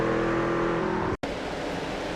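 Racing truck engines roaring in a truck racing video game, a loud continuous drone with a brief dropout midway, no talk.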